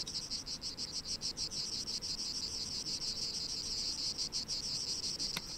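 Cicadas shrill in a video game scene, a continuous pulsing insect buzz with rapid rhythmic beats, fairly close and alone, with no voices over it.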